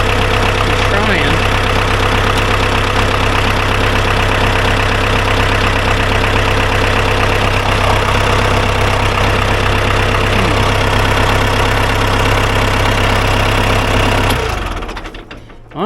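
Old Ford tractor engine running after years of sitting, a loud, steady close idle with a slight rhythmic knock that carries on unchanged before cutting off abruptly at the end.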